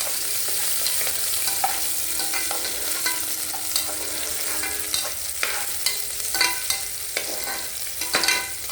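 Chopped onion pieces frying in oil over a low flame, a steady close sizzle with intermittent stirring scrapes and clicks throughout, no talking.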